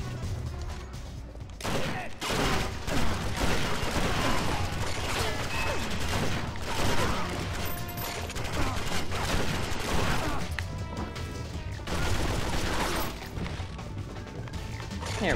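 The Viper gun in 007 Agent Under Fire fires rapid repeated bursts with mechanical clatter and crashes, dense and loud across the whole stretch.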